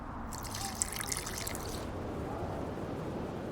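In the video game The Witcher 2, water trickles and splashes briefly into a flask, a soft close pouring sound that fades into a quiet liquid hiss.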